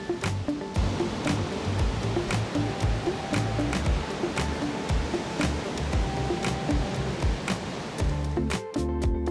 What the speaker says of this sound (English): the sound of the waves crashing and the smell of the sea was just what the doctor ordered